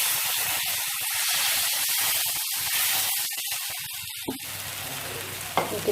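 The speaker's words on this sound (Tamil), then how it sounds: "இப்போ நல்லா கல் சூடாகிடுச்சு. நம்ம தோசையை ஊற்றிடலாம்." Rava dosa batter hits a hot griddle and sizzles in a steady, loud hiss that fills the whole stretch, with faint scraping and crackles breaking through near the end.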